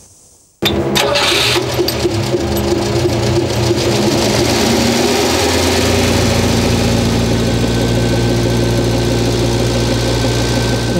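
A small locomotive powered by a rebuilt Renault 5 engine starts abruptly and then runs loudly at a steady idle, with a continuous mechanical drone and a constant rhythmic churn that carries on throughout and has no voices over it.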